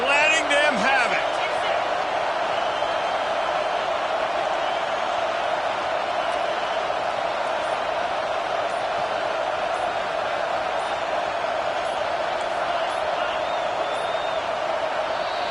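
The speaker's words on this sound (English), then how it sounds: "They are pinned deep, and this crowd is letting them have it." A stadium crowd in an American football video game sends up a loud, unbroken roar of disapproval after a turnover leaves the home team pinned deep, the noise holding steady throughout.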